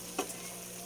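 Adobong sitaw with pork being stirred in a pan, a single short scrape of the utensil over a faint steady sizzle, close and brief.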